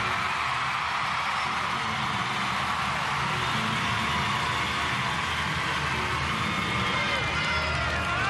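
A home crowd cheers and roars in a large arena at the 2003 World Gymnastics Championships women's team final, a steady dense wash of voices and applause.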